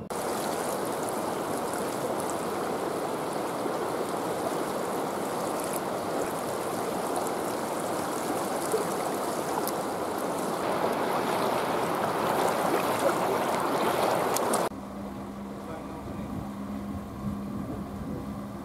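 Clear water of the Nagara River flows past in a steady, rushing stream heard up close and alone, then drops to a quieter murmur near the end.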